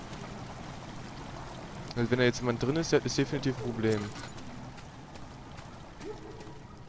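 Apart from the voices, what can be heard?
water flowing into a chamber in the video game Amnesia: The Dark Descent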